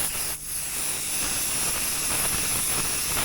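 A can of white spray paint gives a continuous, fairly loud hiss, held almost unbroken for a few seconds with only a short dip near the start.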